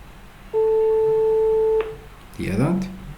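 A telephone line on a FreePBX call center system rings with one steady electronic tone lasting over a second, then a short burst of other electronic sound follows over faint room noise.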